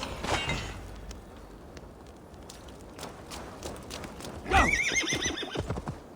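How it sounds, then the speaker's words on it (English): A horse whinnies near the start, then a louder, longer neigh rises later, with faint hoof clops and ambient noise in between, in the video game Assassin's Creed Valhalla. "Now to deliver Magni his horse."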